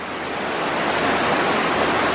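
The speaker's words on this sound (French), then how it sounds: "on va traverser la rivière" A river in Japan rushes steadily as it is crossed on foot, a loud, dense, unbroken wash of flowing water close to the microphone with no pauses.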